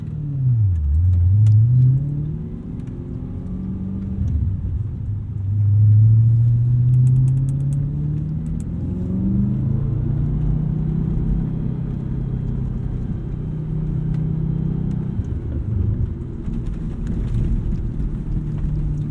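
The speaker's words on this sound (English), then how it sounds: "It's this buttery smooth, high revving V8." A 2007 Audi RS4 with a V8 engine revs while driving, heard from inside as the engine note repeatedly climbs and falls through the gears, loud and steady with no talk.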